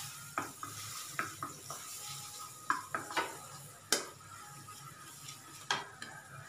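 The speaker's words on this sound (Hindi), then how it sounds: "एक पैन को हमने गर्म कर लिया है, आधा चम्मच हम बटर डाल देते हैं" Butter and a little oil heating in a hot pan, with soft sizzling under a run of sharp clinks and scrapes of a spoon against the pan, irregular and close.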